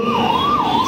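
An ambulance siren wails loud and close in a rising and falling sweep, heard amid a crowded Dahi Handi festival street in Diva village.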